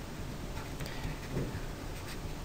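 Pen or marker writing notes during a physics lesson on thermal energy, a soft steady scratching up close under a constant hiss, with no speech.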